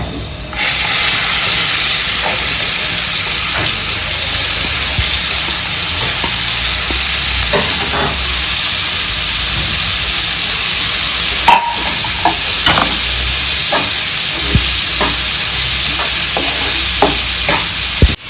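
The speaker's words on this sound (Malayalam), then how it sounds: "ഫ്രൈ ചെയ്ത എണ്ണ തന്നെ സവാള വഴട്ടാൻ പോവാണ്" Four medium sliced onions are sautéed in leftover fish-frying oil for a Kerala fish pollichathu, a loud, steady sizzle and hiss close by, punctuated by intermittent scraping stirs and sharp spatula taps.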